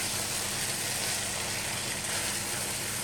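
Chicken sizzling in a hot pan with a splash of soy sauce, partway through a stir fry, giving a steady, even crackle of frying that fills the whole stretch with no talk.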